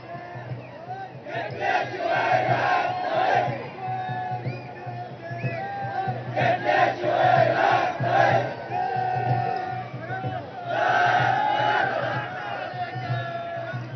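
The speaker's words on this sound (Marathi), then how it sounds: "मराठा आंदोलकांची गर्दी झाली आहे" Maratha protesters gather in a large crowd at CSMT in Mumbai, chanting and shouting slogans in repeated loud surges with brief lulls between, sounding fairly distant and reverberant.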